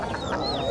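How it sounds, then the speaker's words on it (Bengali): Geese and ducks call at a busy rural poultry market in a riverine char area of Bangladesh, with several overlapping honks and quacks heard close by over a murmur of background noise. "এই বাজারে প্রচুর রাজহাঁস, চীনা হাঁস, দেশি হাঁস ওঠে।"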